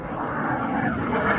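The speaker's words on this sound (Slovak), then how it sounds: "L-39 je zaradené ako výcvikové lietadlo v službách ozbrojených síl Slovenskej republiky." An L-39 jet trainer of the Slovak armed forces passes at an air race, a broad roaring rush of engine noise that swells slightly and stays loud throughout.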